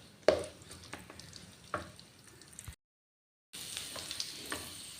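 Oil heating and frying in a pan on a gas stove, a soft crackling sizzle with a few sharp spatters, briefly cut to silence before the sizzling resumes, faint and close.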